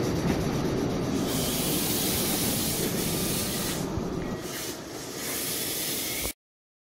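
A Meitetsu 5000 series train built in 2008 with a diamond-shaped pantograph runs past close by, loud rumbling and hissing rail noise that holds steady for several seconds, then cuts off abruptly.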